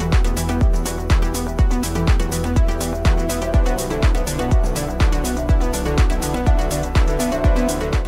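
A chill mixed music track plays back with a strong, deep sub-bass and a steady, punchy kick pulse under layered melodic parts, continuous and full throughout.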